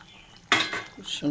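Lentil fritters slid slowly from a bowl into a pot of boiling curry broth, heard as a short burst of clattering, splashing plops after a brief quiet, followed by a second softer knock.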